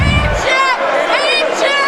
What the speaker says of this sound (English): The ref is hearing it right now from all parts of the crowd.